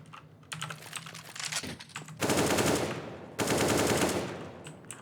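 Rapid automatic gunfire in CS:GO on the de_jingshen map, fired through a wall: two long, loud sustained bursts of dense shots after some lighter clicking, with no talking.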